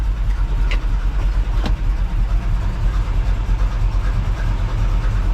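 A truck engine with a high-output alternator idles close by, a loud, steady low rumble with a regular pulsing beat throughout and no voices.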